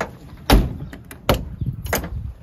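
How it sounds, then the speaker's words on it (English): Door of a 1972 VW Westfalia van shutting, several sharp close thuds and latch clicks spaced across a couple of seconds, with light handling noise between. "Look how nice the door shuts."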